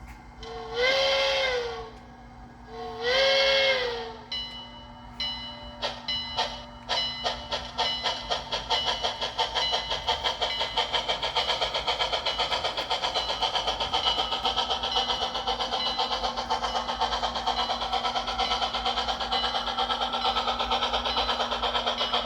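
A model steam locomotive on a home layout opens with two loud whistle toots, then rolls over switches and curves with a rapid, rhythmic clicking and a steady motor hum.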